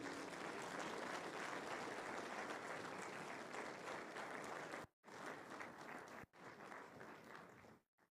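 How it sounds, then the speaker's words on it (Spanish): Dense, sustained applause from a large congregation welcoming a visiting Korean pastor at an evangelistic campaign meeting, a steady wash of many hands clapping that briefly drops out twice before fading at the end. "Con fuertes aplausos le recibimos."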